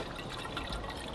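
Distilled water pours into a Chevy Silverado's coolant system as a brief, steady liquid trickle and splash, close by, with no voices.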